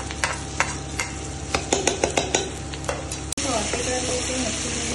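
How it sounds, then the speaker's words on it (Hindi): Whole spices and garlic-ginger paste fry in oil in a pan for butter chicken, with a spoon scraping and stirring rhythmically over the sizzle before a louder, steady sizzle takes over. "सॉटे कर लेते हैं अच्छे तरीके से हमारे मसाले को, खड़े मसाले, लहसुन अदरक का पेस्ट"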